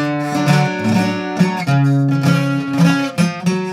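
Fast strummed requinto guitar chords from a song, bright and close, a steady run of rhythmic strums with no talking.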